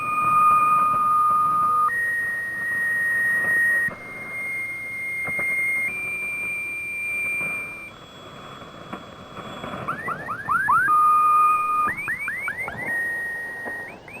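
The alleged HAARP sound is an eerie electronic drone of steady whining tones that step up and down in pitch, then break into quick repeating chirps and swoops, loud and alone.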